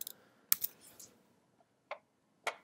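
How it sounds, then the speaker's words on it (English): A few scattered keystrokes on a computer keyboard, entering values into an astronomy observing-proposal form, heard as sparse clicks in a quiet room with pauses between them. "So let's type in here the wavelength."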